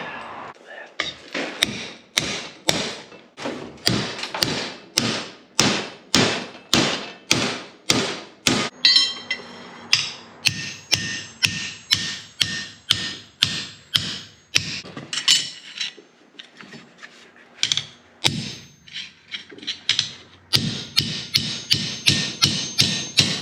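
Hammer blows ring on metal as a discontinued tractor part is shaped and bent on an anvil: loud, evenly spaced strikes in fast runs, broken by short pauses, then resuming in steady bursts, close and sharp.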